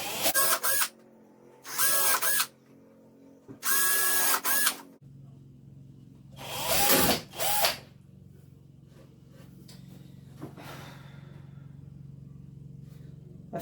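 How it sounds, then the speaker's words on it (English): A power drill boring screw holes straight down into a birthday calendar board, several short high whining bursts separated by pauses, loud and close, with no talking. "And just drill it straight down."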